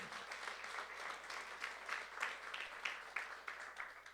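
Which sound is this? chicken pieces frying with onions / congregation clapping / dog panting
congregation clapping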